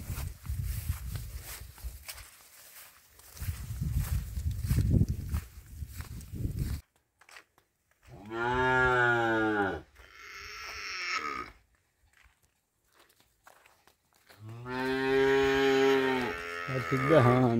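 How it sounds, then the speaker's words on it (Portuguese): Cows and calves on a farm moo in long, loud, drawn-out calls, two or three separate bellows close by, after a stretch of shuffling hooves and rustling. "Tudo berrando."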